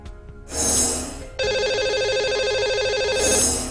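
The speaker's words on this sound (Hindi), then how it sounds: "चलिए उन्हें फोन लगाते हैं सबसे पहले" An outgoing phone call to a lucky caller on a broadcast: a loud electronic ringback tone repeats in steady bursts, heard alone without talk.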